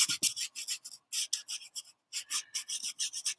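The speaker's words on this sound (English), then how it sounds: "I'm just going to give it a little rub down to lighten it up a little bit." A painted base coat on a garden painting is rubbed down by hand with quick, close scratchy strokes, about a dozen in short rhythmic bursts with brief pauses between them, and no voices.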